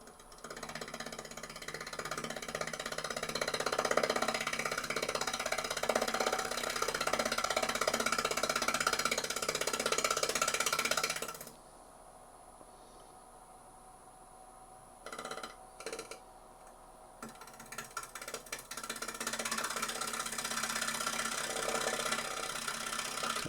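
A wood lathe spins a box elder bowl while a 1/2-inch bowl gouge trues it up, giving a steady rattling hum of cutting for about eleven seconds, then a lull with brief sounds before the turning noise resumes, close and without talk.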